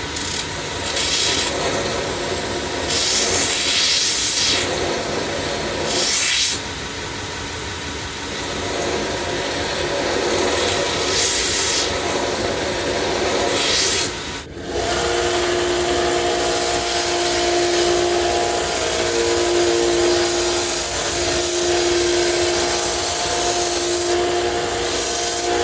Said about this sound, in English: Let's put it on the grinder, clean it up a little bit.